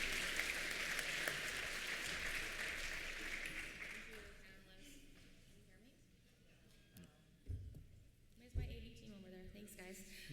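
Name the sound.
audience applause for the expert panelists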